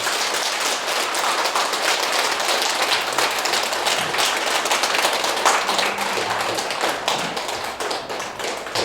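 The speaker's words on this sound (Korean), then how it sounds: "동명스님께 다시금 감사의 큰 박수 부탁드리겠습니다." A temple audience at a New Year Dharma assembly gives a monk a big round of applause, sustained dense clapping throughout, loud and close like heavy rain.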